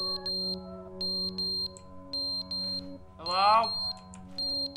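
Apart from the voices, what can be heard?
smoke alarm beeping in The Stanley Parable Ultra Deluxe video game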